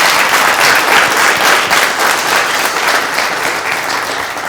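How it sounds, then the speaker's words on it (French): A live audience applauds Lionel Bilgo with steady, dense clapping that carries loudly and evenly throughout, with no voices over it. "Mesdames et messieurs, je voudrais qu'on applaudisse encore M."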